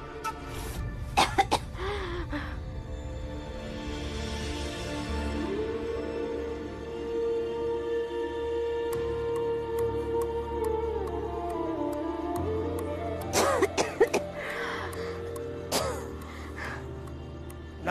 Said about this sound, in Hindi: खांस खांस के दिमाग खराब कर दिया।